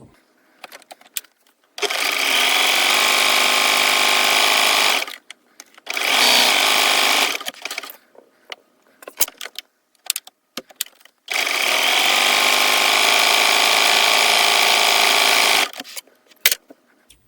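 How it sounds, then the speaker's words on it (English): A sewing machine runs a stretch stitch along sleeve hems on kids' clothes, whirring in three steady bursts, the first and last long, the middle shorter, with quiet pauses and small clicks between. "I'm using a stretch stitch to hem the bottom of the sleeves."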